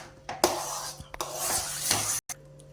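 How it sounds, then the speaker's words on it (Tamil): Moong dal halwa cooking in a pan on a low flame as ghee is added, giving a steady hissing sizzle with scraping stirring noises that swell and fade, close and fairly loud, with no talking. "இப்போ இதில் கொஞ்சமாக நெய் சேர்த்துக்கலாம்."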